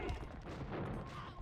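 Battle din from Age of Empires II with a bombard cannon in the fight: a steady, dense wash of impacts and crackling at moderate level, with no distinct separate blasts.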